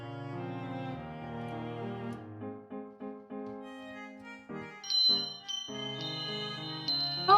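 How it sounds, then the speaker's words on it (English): In the video game Tales of the Black Forest, a wind chime sounds bright, ringing tones, scattered metallic dings sustaining over a soft melodic background, growing more prominent toward the end. "you can hear the wind chime if you go up"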